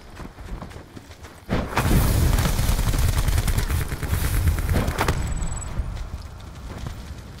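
Rapid automatic gunfire in Call of Duty, a dense rattling burst lasting several seconds, loud and close, then tapering off with a few sparse clicks.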